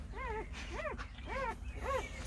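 A mother dog tending her newborn puppies on a rural seaside property gives four rising-and-falling whimpers in a steady sequence, close and fairly soft, over a low background rumble.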